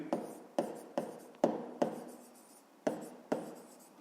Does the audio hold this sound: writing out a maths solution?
yes